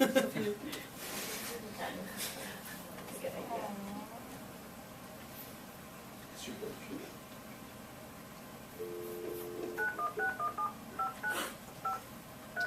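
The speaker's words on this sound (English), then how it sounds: "let's just call a phone number to see if this one is working" Telephone keypad tones sound as a phone number is dialed, short evenly spaced beeps near the end that follow a few earlier ones, under and between people talking in a room.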